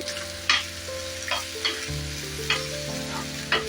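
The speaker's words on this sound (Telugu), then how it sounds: "ఇది చిన్న చిన్నగా ఇలా బాగా ఫ్రై చేస్తున్నాం ఎగ్గుని." Egg pieces frying in a pan for chicken fried rice, a continuous sizzle broken by periodic scrapes of a spatula stirring every second or so, close and clear with no talking.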